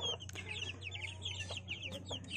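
Two-week-old Blue Splash Brahma chicks peeping, a busy cluster of high, quick cheeps close by, overlapping in rapid bursts over a low steady hum.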